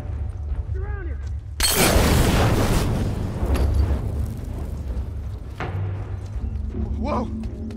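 A grenade blast in The Last of Us erupts as a loud, sudden boom with a long crumbling decay, with a shouted voice just before and game ambience continuing after.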